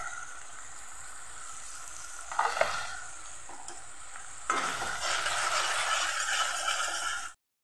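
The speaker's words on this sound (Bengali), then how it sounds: "এখন মশলাটা ভালো করে ভেজে নেব।" Chili, turmeric, cumin and coriander powders fry in hot oil with a steady close sizzle and stirring scrapes, swelling into a louder, hissing fry midway before cutting off abruptly.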